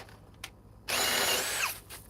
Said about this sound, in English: This drill doesn't have as much power